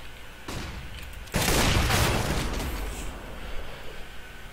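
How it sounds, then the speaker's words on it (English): A flashbang grenade detonates in Counter-Strike on the Mirage map, a sharp loud blast that rings out and slowly decays, following a smaller thud just before. "Flashbang."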